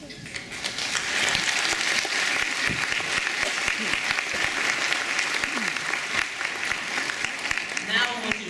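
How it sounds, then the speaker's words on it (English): Steady, full applause fills a commencement ceremony hall, many hands clapping continuously with some crowd noise and a voice heard over it. "I would like you to thank them with an applause"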